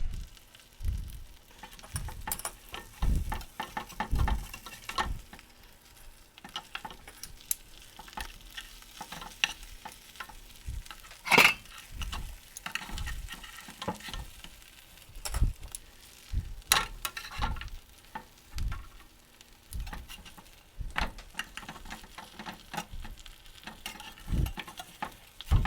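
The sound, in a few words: brisket grilled cheese sandwich frying in a pan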